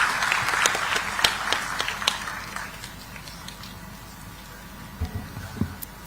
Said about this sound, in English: Let's welcome Mr. Gurnani with a thunderous round of applause,